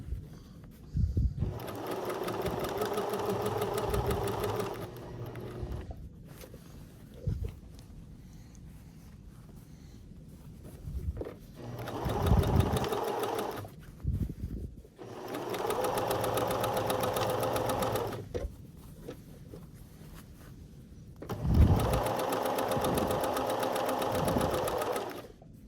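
Sewing machine stitching a skirt waistband in several bursts of steady whirring needle action lasting a few seconds each, separated by pauses with small handling clicks; close, moderately loud, and no one talks.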